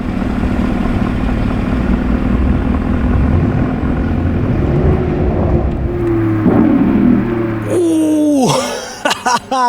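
A Lamborghini Huracán Performante drives past close by with a steady roaring engine note, then a sharp downshift blips and swoops in pitch near the end, with brief crackling bursts as it pulls away.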